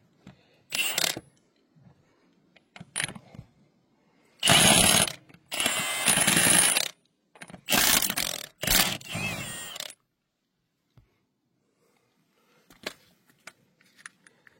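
A 27 mm nut on a Valmet 305-4 tractor's tie rod end is worked loose with a socket wrench, several separate bursts of ratcheting and grinding metal noise broken by quiet pauses.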